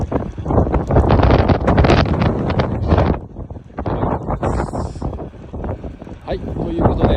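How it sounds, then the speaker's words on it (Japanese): Strong wind buffets the microphone at the Itoigawa Seaside Valley ski resort, a loud, roaring, gusting rush that surges, dips briefly and builds again throughout. "残念ながら今日は風が強いです。"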